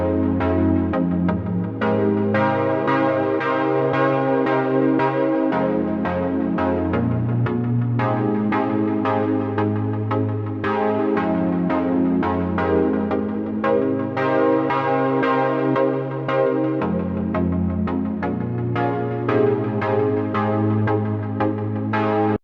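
Sustained synthesizer chords from a Serum preset with a saw wave and a basic shape oscillator, remaking Home's "Resonance": warm, bell-like pads pulsing in steady repeated stabs, changing chords every few seconds, loud and alone for over twenty seconds.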